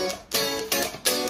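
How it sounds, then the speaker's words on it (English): Funk strumming part on guitar, a few short percussive chord strokes in a syncopated rhythm with muted chops between, close and clear, played alone. "Yesterday, I took my small chord melody and turned it into a funk strumming part."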